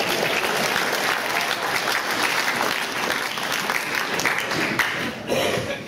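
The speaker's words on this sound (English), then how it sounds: "You can clap." An audience breaks into applause during a political speech at a school in Hendon, steady crowd clapping throughout that thins slightly near the end, with no speech over it.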